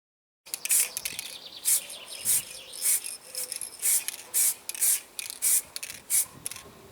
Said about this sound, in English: So now I'm going to go out and spray the colour coating on there.